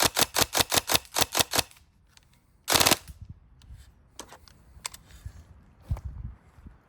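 Tokyo Marui 417 NGRS airsoft rifle firing nearby: a rapid run of about ten sharp, loud shots in two quick bursts, then one louder burst, followed by scattered faint clicks and handling noise.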